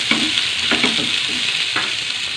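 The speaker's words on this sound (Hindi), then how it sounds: "तो हम इसमें बारीक कटा हुआ प्याज डालेंगे, इसको भी, इसको लाइट ब्राउन ही करना है" Finely chopped onion frying in a pan while being stirred for bread poha, a steady close sizzle with a few scraping stir strokes and no talking.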